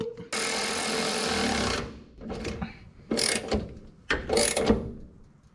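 A ratchet wrench tightens cross member bolts under a car, with a long, close run of rapid clicking followed by several shorter ratcheting bursts separated by brief pauses.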